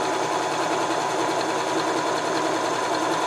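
A sewing machine stitches fabric for a handmade shirt, a loud, continuous rapid whirring with no pauses, close to the microphone.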